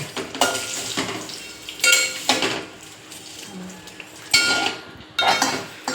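A spoon stirs vermicelli kheer in a metal pot, making repeated loud scraping clatters at uneven intervals over a low simmering hiss, with no talking.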